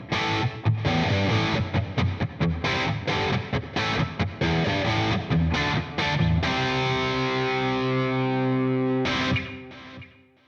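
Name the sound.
distorted guitar track reamped with Headrush MX5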